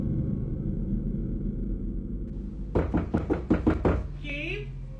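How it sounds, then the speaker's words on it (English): Sharp, insistent knocking on a bedroom door in a house, a quick run of about seven loud raps close by, followed by a brief voice. "effusively began to knock outside his bedroom"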